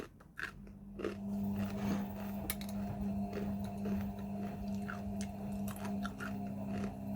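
Crunchy chips are chewed up close in a series of irregular, brittle crunches over a steady low background hum, with no talking.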